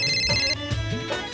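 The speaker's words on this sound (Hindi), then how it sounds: "किसका फोन है?" A phone rings in a room with a looping electronic ringtone of bright repeating tones, steady and fairly loud throughout, with no talk over it.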